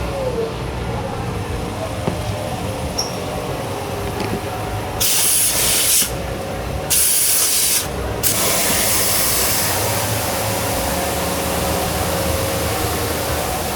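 A 2021 GMC Sierra 1500 pickup, fitted with an 8L90 transmission, idling after a remote start, a steady engine drone mixed with broad hissing noise that swells loudly for a few seconds in the middle, with no talk.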